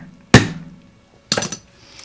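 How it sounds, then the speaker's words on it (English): A hammer strikes a battery cable eyelet laid on the ground, two sharp metallic blows about a second apart, close and loud, the second followed by a brief rattling ring. "And we take our hammer"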